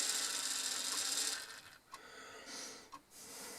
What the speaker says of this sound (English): the point motor's just decided to move on its own there